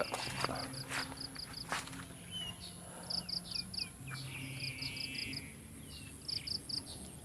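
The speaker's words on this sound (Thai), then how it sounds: "อยู่กับท้องทุ่ง อยู่กับบรรยากาศเสียงนก เสียงเขียดเสียงกบครับ" Small birds sing and chirp among rural fields, with bright repeated phrases in short bursts spread across the scene alongside faint insect and frog-like background noise and occasional rustling steps.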